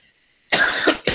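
A man coughs twice after eating peanuts, a sharp loud burst then a shorter second cough, close to the microphone after near silence.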